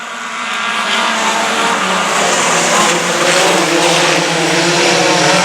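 Super late model race cars roar together on a racetrack at a restart, a loud, dense, sustained engine wash that swells in the first second and then holds steady with no gaps, with no talking.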